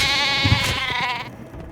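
Sheep bleating in the video game Oblivion, a single loud wavering bleat lasting over a second, heard close and alone.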